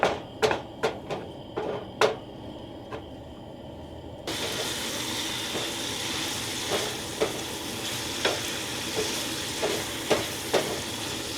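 Freeze-dried, reconstituted coarse ground beef, seasoned with salt and pepper, frying in cooking oil. A few sharp clicks and taps come first, then a steady, close sizzle starts and keeps going with occasional scrapes.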